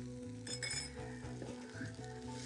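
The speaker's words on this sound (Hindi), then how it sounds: "ये सब चीज़ों को हल्का सा सौते कर देते हैं" Crushed cauliflower and pea mixture seasoned with salt and pepper, lightly sautéed in a pan: a steady soft sizzle with rhythmic clinks and scrapes of a spoon against metal, close and alone.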